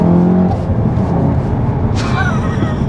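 A manual MK7 Golf R with a 500+ bhp big turbo engine pulls hard inside the cabin, a loud steady drone with a rising whoosh of turbo spool near the end.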